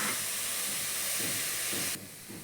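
Carrots frying in a pan for carrot halwa give a steady, close sizzling hiss that cuts off abruptly near the end, leaving a quieter hiss. No one speaks.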